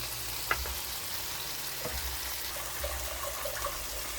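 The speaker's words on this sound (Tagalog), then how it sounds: "Ginisa ko, sibuyas, bawang, kamatis." Onion, garlic, tomato and malunggay sautéing in butter in a pan, a low steady sizzle with a few soft clinks and stirring noises, close by, no talking.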